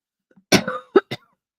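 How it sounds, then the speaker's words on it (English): A few sharp coughs close to the microphone, one longer burst followed by two short ones, with no talking. "coughing right into the mic when I've got a hand"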